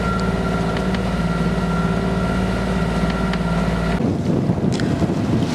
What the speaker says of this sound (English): we motor sailed on to the entrance to Fisherman's Gat